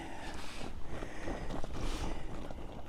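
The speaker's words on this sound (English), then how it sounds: "It is windy." Steady outdoor wind on a lake shore buffeting the microphone, a continuous rushing roar with gusts that swell and fade throughout.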